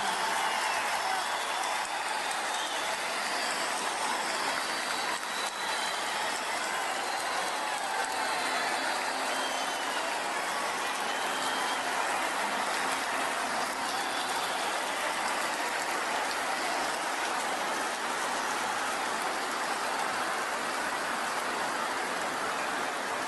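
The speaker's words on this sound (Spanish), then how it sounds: "Esos aplausos estruendosos realmente" An audience at a Spanish-language political gathering gives thunderous applause, a dense, steady patter of clapping that fills the whole stretch without a break, heard from within the hall.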